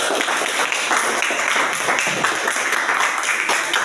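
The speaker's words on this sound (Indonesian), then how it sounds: "kita kasih aplaus dulu untuk teman kita" Applause from a classroom of students for a classmate who just finished a presentation, dense steady clapping of many hands throughout, fairly loud and close with no clear talk over it.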